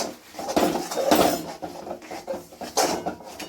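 Sesame seeds stirred into hot jaggery in a pan for til gul papdi, a spoon scraping and clattering against the pan in irregular strokes, close and fairly loud.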